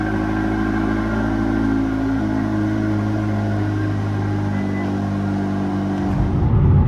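A car engine sits in a steady, loud idle after a cold start, with a constant low drone, before a brief shift in tone near the end.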